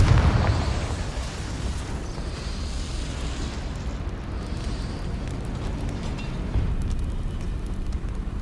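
The Confringo fire spell exploding in Hogwarts Legacy, a loud burst at the start trailing into a sustained roaring, crackling rumble with a second swell later on.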